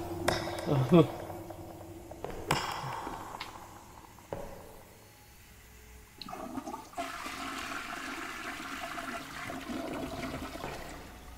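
A toilet flushes in the video game Perception, a short rushing water burst followed by draining and gurgling, with footsteps and other game sounds around it, fairly quiet and close.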